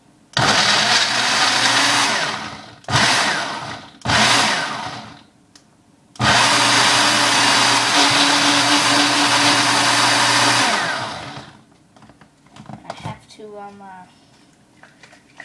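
A Magic Bullet style blender roars loudly in several bursts: three short pulses, then a long steady run of about five seconds, followed by quieter handling noises.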